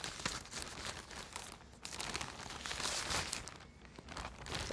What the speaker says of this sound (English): sorry about the crinkling noises